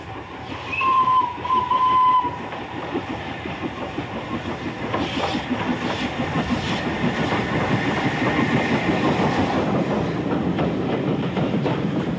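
N2 steam tank locomotive 69523, an 0-6-2 tank, runs on a Leicestershire heritage line, with a couple of short whistle blasts near the start followed by a steady, growing rhythmic chuffing and wheel clatter that builds and stays loud.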